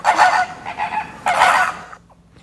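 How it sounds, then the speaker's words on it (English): A flamingo calls with loud, nasal, goose-like honks, several bursts in a row close by and alone, ending in quiet. "It's a flamingo."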